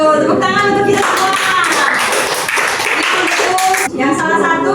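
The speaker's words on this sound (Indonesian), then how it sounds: "tepuk tangan untuk kita semua" A classroom of lower-secondary students claps together during a civics lesson, a dense, steady patter of hands lasting a few seconds with voices mixed in.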